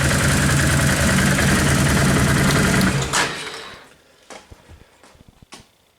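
A 2010 Can-Am Outlander 800 ATV engine runs loud and steady at close range for about three seconds, then cuts out, leaving faint clicks and small knocks.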